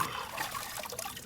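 Water trickles and splashes steadily as a gun receiver is rinsed, a soft continuous liquid wash with no voices over it.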